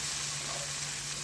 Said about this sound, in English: So at this point you don't want your onions to burn, so add your tomatoes.